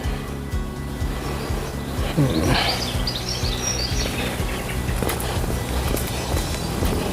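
Birds chirp and call around a feeding spot on a sunny stroll on the Isle of Man, with a brief burst of tweets mid-clip over steady outdoor noise and the soft sound of walking footsteps.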